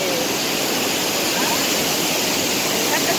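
The Paterson waterfall roars as a dense, steady rush of falling water, loud and close, completely covering any voices.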